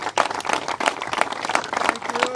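An audience at a parade event gives a round of applause, lively uneven clapping from a small crowd close by.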